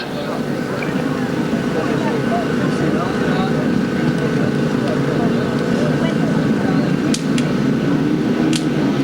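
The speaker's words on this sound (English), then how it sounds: "Here we go there, the revs are rising." Grasstrack racing motorcycle engines rev together at the start of the 1992 British Masters Championship final, a steady loud drone with rising pitch and crowd noise underneath throughout.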